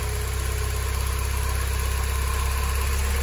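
A car engine idles steadily after a DIY carbon clean, a close, constant low rumble with an even pulse and no change in speed.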